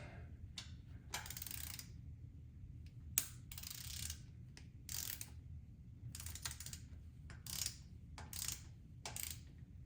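A torque wrench ratchets while tightening an intake manifold bolt on a C3 Corvette 350 small-block, making quiet bursts of rapid clicking with short pauses between them.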